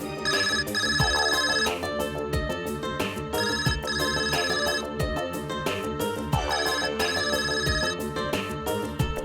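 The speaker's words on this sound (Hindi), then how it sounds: "किस बदतमीज का ये फोन है? बंद करो उसको।" A mobile phone ringtone plays loud and continuous in a courtroom, a busy melodic tune that repeats in steady phrases the whole time with no one speaking over it.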